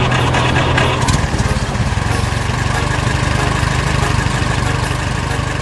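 An animated telehandler and a red tractor loading a trailer in a 3D construction cartoon drone with a loud, steady engine hum that runs throughout.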